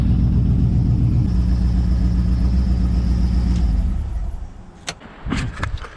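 LS1 V8-swapped Nissan Patrol running steadily, a loud low engine rumble that fades after a few seconds, followed by a few sharp clunks and knocks near the end.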